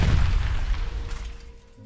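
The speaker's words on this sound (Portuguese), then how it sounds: "Dá só uma olhada nos cientistas fazendo um teste de explosão por pressurização em um dos protótipos." A pressurized space habitat prototype bursts during a pressurization explosion test, giving one loud, deep boom that rolls off into a fading rumble over about two seconds, with no talk.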